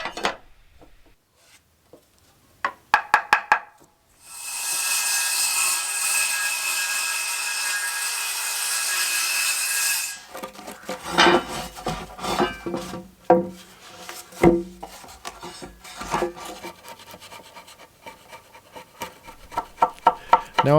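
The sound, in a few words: chiseling notches in a wooden timber frame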